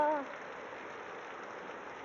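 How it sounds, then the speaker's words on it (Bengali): Heavy rain during a storm in Kalyani, a steady broadband hiss of downpour that stays even throughout, with a brief louder onset at the very start. "আমাদের কল্যাণীতে কি বৃষ্টি হচ্ছে, ঝড় বৃষ্টি"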